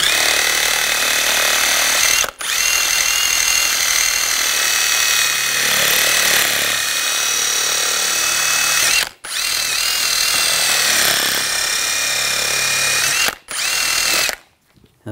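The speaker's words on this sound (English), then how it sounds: "I'm going to take a wire brush. We're just going to clean up the area right in front of the bearing." A drill-driven wire brush scrubs rust from around the rear wheel bearing of a 2004–2009 Audi A4 Quattro, a loud, steady high-pitched whine in three long runs separated by brief pauses, ending abruptly.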